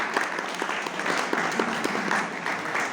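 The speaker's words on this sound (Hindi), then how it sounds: "जोरदार तालियों से स्वागत करें इस हॉस्टल के सभी पदाधिकारी" A crowd at a university hostel gathering applauds to welcome the hostel office bearers, dense continuous clapping filling the space, moderately loud and steady, with faint voices mixed in.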